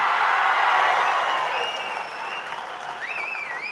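A hall crowd at a TVK party cadre meeting applauds a speaker. Dense, roaring applause swells loudly at first, then softens slightly while staying continuous, with a faint whistle-like tone near the end.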